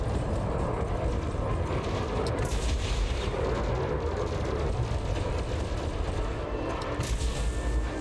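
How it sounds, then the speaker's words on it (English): Heavy ship-mounted guns blazing in a space combat video game, a Fer-de-Lance fighting a Chieftain, a dense, unbroken roar of rapid firing and impacts that stays loud throughout. "I'm gonna start targeting like random hard points. Shoot out their guns."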